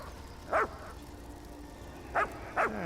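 A puppy in Elder Scrolls Online gives three short yippy barks, one early and then a quick pair near the end, set against a quiet ambient game backdrop.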